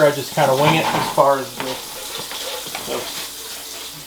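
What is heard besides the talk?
warm water running from a tap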